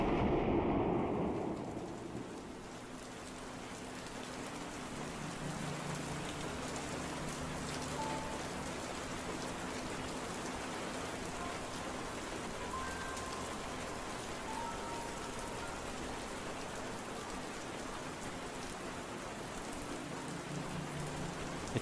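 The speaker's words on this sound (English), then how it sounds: "It starts raining hard." Heavy rain pours down steadily in the video game Burrows, a dense, even hiss of falling water that begins with a louder swell, then settles into a constant downpour with no voices.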